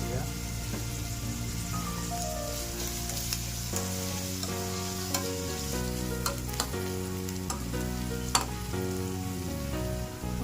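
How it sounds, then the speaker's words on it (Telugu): Onion and curry leaves frying in oil after cinnamon and cloves go in: a steady, fairly quiet sizzle with occasional stirring clicks, under background music. "తర్వాత ఆనియన్, అది ఫ్రై అయినంత వరకు వేయించుకోవాలి."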